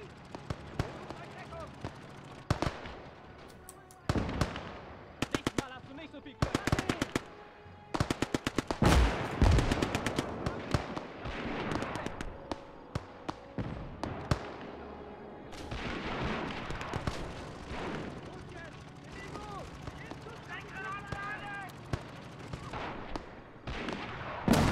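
Dense video game combat from a World War II German campaign mission: rapid machine gun and rifle bursts with booming mortar impacts and explosions, sustained and chaotic throughout.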